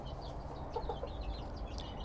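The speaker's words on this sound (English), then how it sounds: "These are miniature chickens or Bantam chickens." Soft clucking from a few bantam chickens close by over a steady low rumble of background noise, with brief higher chirps scattered through.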